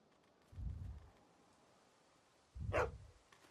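Two short, muffled dog barks about two seconds apart come from a dog in The Walking Dead video game, the second ending in a brighter yelp, against a quiet background.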